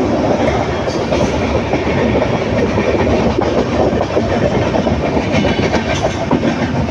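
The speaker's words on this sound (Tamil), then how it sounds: "தர்மபுரியிலே வண்டி கிளம்பிருச்சு" A passenger train travels on from Dharmapuri station on the Erode to Bangalore line, its steady loud rumble and rhythmic clickety-clack of wheels over rail joints filling the whole stretch with no voices.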